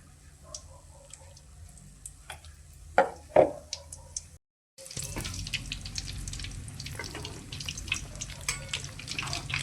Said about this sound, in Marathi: वडे आपले तळून झालेले